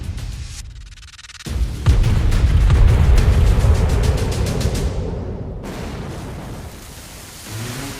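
Battleship HMS Rodney opens fire on the German battleship Bismarck on the morning of May 27, 1941: a sudden heavy naval gun salvo booms in, then a loud, sustained rumbling roar slowly fades, with no talking.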